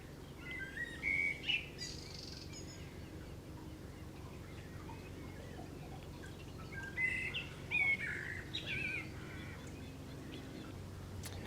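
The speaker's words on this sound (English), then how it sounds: "Birds are really singing this morning." Birds singing on a morning along the Kennet and Avon Canal, with bright chirps and short song phrases arriving in bursts over a quiet, steady low background hum.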